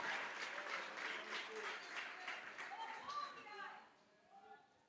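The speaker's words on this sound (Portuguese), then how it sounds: "Você pode aplaudir ao Senhor." A church congregation applauds in a dense burst of clapping that swells and then fades, with a voice speaking over it and faint children's voices near the end.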